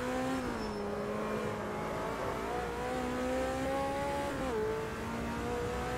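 A GT race car engine in the Automobilista 2 racing game holds a loud, steady, slightly synthetic drone, its pitch rising and dipping through gear changes for about six seconds with no talk.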